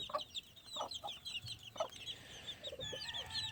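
A brown red gamefowl hen on a farm, with a brood of newly hatched chicks, gives soft repeated clucks up close, mixed with high chirping from the chicks throughout.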